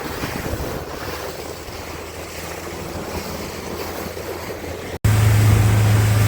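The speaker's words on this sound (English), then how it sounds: "shows some footage of the boat cruising at 30 knots where we were allowed to" A fishing boat cruising at about 30 knots, with steady wind buffeting the microphone and water rushing past, then a sudden jump to a louder, lower engine drone near the end.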